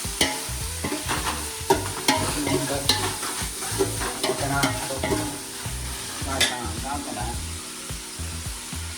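Pieces of fish fry in a pan with a steady, close sizzle, broken by frequent spatula scrapes and knocks. Voices talk faintly now and then over the cooking.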